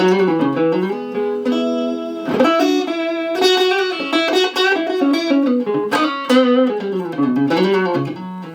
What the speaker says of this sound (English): So with the tube screamer on, sounds like this